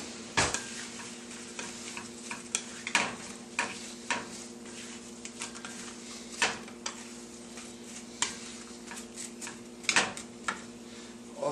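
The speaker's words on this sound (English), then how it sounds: "we're going to want to start stirring them around and making sure that that butter gets on all the apples" Apples are stirred in butter in a frying pan with a utensil, soft scrapes and sharp clinks against the pan spaced irregularly over a low sizzle, close by with no talking.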